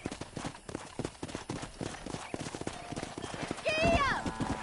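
In the Red Dead Redemption game, a horse's hooves clip-clop steadily while voices talk over them, and a loud whinny rises near the end.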